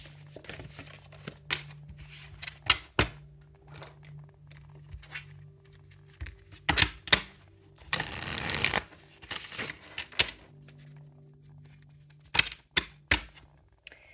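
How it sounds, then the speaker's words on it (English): A tarot card deck being shuffled and cut, with repeated crisp riffles, flicks and soft slaps in irregular bursts, including one longer rustling shuffle, close up with no talking. "I just cut the deck for someone."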